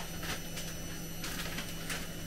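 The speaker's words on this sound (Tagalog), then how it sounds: "ang ingay ng ating washing machine" A washing machine runs in a home kitchen, making a constant loud whirring drone with rhythmic swishing surges that repeat every half second or so.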